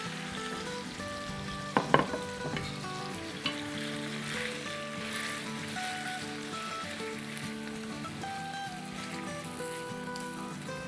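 Chicken for a green salan fries in a pan with whole cumin and salt, giving a steady, close sizzle with a few sharp clinks of a spoon against the pan early on; no voices.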